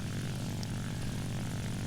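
An SBD-3 Dauntless propeller plane in War Thunder drones with a constant, full engine roar, steady and unbroken, with no voices over it.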